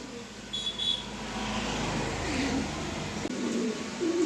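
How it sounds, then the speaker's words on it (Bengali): Pigeons cooing softly at a loft where a pair of running pigeons is kept, low steady coos over a constant background hum, with a couple of faint higher bird chirps early on. "এখন কবুতর দেখাবো"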